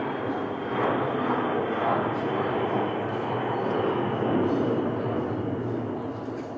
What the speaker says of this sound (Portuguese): Quando o avião passa,